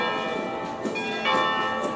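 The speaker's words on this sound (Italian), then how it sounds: "Le campane annunciano che tutto sta per iniziare" Church bells ring to open a festival, a steady metallic tolling held at moderate distance for a couple of seconds, with no voices over it.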